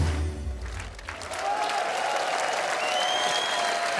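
Audience applause at a live outdoor summer TV music show in Giswil, Switzerland, a broad steady wash of clapping that swells after a low rumble at the start and holds loud and continuous throughout.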